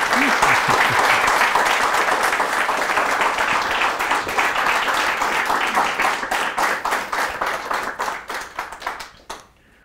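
An audience in a Hindi news studio applauds loudly to welcome physics professor HC Verma, a dense, steady wash of clapping that holds for most of the stretch, then thins into scattered individual claps and fades out at the end.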